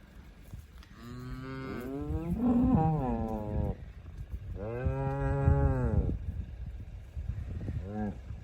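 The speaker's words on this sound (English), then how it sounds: "There's Florence mooing" A cow named Florence, an ear-tagged farm animal about to join a herd, moos loudly and close by in two long drawn-out calls with a short grunt at the end.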